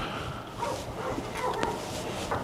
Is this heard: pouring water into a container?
no